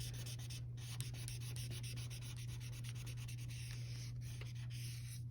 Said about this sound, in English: I'm going to use yellow marker to fill in the white paper between the purple line and the blue line